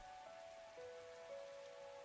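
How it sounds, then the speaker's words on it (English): Rain drumming on a rooftop in a visual novel game, a soft steady patter of drops under faint tonal background music, brief and quiet with no voices. "Raindrops were flooding the rooftop around me, producing a relentless rhythmic beat."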